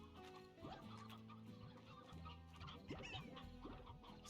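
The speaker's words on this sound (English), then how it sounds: "See, chickens!" Chickens clucking close by in a farm setting, a steady run of overlapping soft clucks and brief squawks with no talk.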